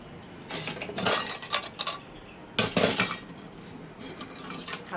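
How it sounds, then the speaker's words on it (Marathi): Copper and brass pots and vessels are handled, producing several loud metallic clanks and clinks in bursts separated by quieter stretches, close by and alone. "तांब्या पितळाचे पातेले दाखवते तुम्हाला."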